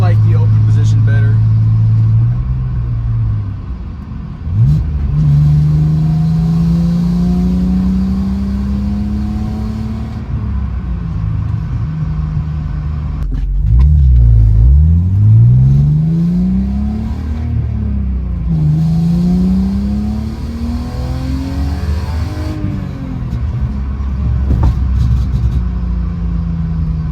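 BMW E46 with an inline-6 and a Turner Motorsports valved catback exhaust revs repeatedly, loud and close, with sweeping rises and falls over a raspy idle and a voice talking over parts of it.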